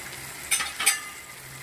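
Softened tomatoes and a prepared masala frying in a pan for garlic chilli fried rice, a low sizzle broken by a few short scraping stirs, fairly quiet and alone.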